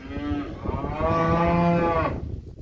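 Cattle on a farm beside a freshly repaired feeder, a steer and last year's calves, mooing in one long drawn-out low, close and loud, lasting about two seconds.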